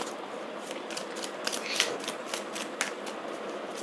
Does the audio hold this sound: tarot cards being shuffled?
yes